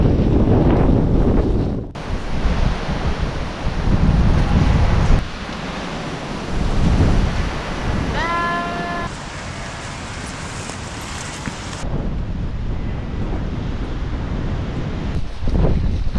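Strong wind buffets the microphone on exposed high ground during rain, with loud roaring gusts rising and falling throughout and a brief whistling tone partway through.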